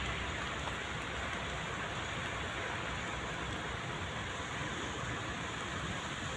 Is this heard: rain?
yes